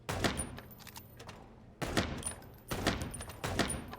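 Bursts of video game gunfire from Chicken Police come in three quick volleys after a quiet stretch, each a rapid clatter of shots at moderate loudness with no voices.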